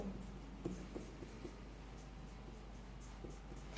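Marker or chalk on a board during a chemistry lesson, a quiet run of soft taps and strokes in an otherwise still room.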